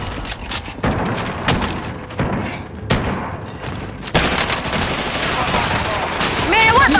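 Video game gunfire in a two-team shooter match crackles in dense, rapid bursts with heavy booms and thuds, loud and continuous over several seconds, while players talk over it.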